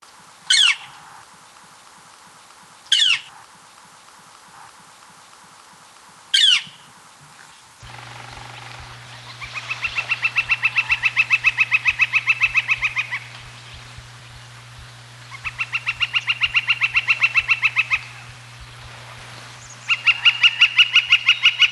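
A northern flicker gives three loud, sharp single calls spaced a few seconds apart, then repeated rapid wicka-wicka chattering series in long bursts, close and clear over a low steady hum.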